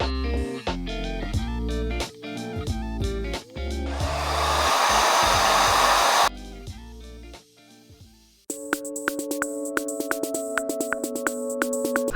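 A new ReFa hair dryer blows with a steady whooshing roar for a few seconds, surrounded by loud background music that continues before and after.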